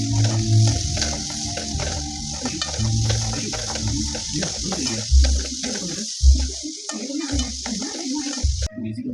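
Carrots and beans sizzling and frying in a pan, with a spatula stirring and scraping the pan now and then, close and steady.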